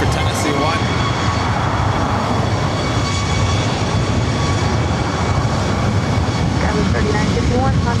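Southwest airliner taking off from LAX runway 24 right, a loud sustained engine roar that holds steady and broad throughout, with radio chatter underneath.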